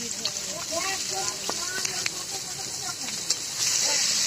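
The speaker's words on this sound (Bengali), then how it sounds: "এখন এখানে পেঁয়াজ আর মরিচটা দিয়ে একটু ভাজা ভাজার মতো করে নিচ্ছি" Onion and green chili frying in a pan for vegetable noodles, a soft sizzle under a voice talking, with a few utensil taps and a brighter hiss rising near the end.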